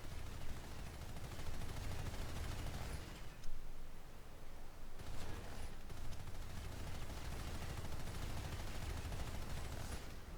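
Dense, continuous automatic gunfire from aircraft guns in the sci-fi shooter PlanetSide 2, a loud unbroken roar of rapid shots with a brief lull midway.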